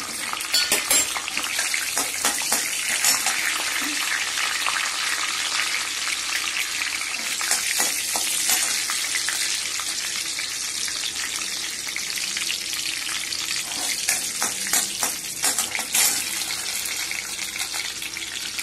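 Two teaspoons of mustard seeds tempering in hot oil for sambar, a loud continuous close sizzle with crackling pops and spits throughout, with no talking over it.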